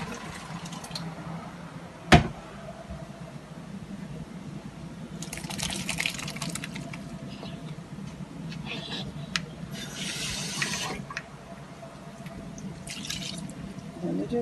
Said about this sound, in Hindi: ये देखिए, मैं पानी ड्रेन कर लेते हैं।